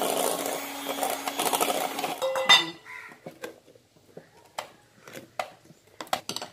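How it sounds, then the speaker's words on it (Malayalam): A hand whisk works flour into pineapple cake batter in a bowl, a steady scraping swish for a couple of seconds, followed by scattered light clinks and taps against the bowl. "ഇതിലേക്ക് കുറേശ്ശെ ഇട്ടിട്ട് നമുക്ക് ബീറ്റ് ചെയ്തെടുക്കാം വളരെ സിമ്പിളാണ് ഇത് ഹാൻഡ് വിസ്ക് കൊണ്ട് ചെയ്യേണ്ട കാര്യമേ ഉള്ളൂ"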